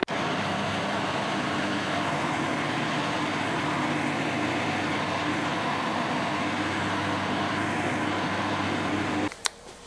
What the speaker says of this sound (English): because I've used lots of potatoes, I have decided to put it in my